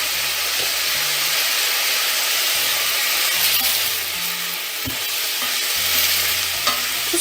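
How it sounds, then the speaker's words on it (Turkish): Onions with salt fry in a pan, a loud, continuous close sizzle and hiss with occasional faint stirring knocks. "Şimdi soğanları kavuracağım"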